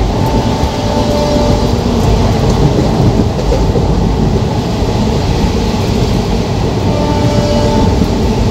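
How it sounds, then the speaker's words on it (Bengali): Heavy rain pours outside a moving Kolkata–Digha special train, a dense continuous wash of rain noise blended with the close rumble of the carriage, loud and unbroken with no talk. "এত বৃষ্টি পড়ছে বন্ধুরা"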